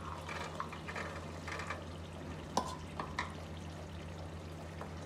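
A spoon stirs aloo matar keema with peas in a pan, giving soft scraping and gentle sizzling over a low steady hum, with a few sharper clinks against the pan and no one talking.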